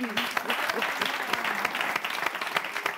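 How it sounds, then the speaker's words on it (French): Audience applause breaks out for Magnéto on a French live show during a semi-final, a lively, close burst of many hands clapping with sharp individual claps standing out, and faint voices underneath. "Applaudissements pour magnéto."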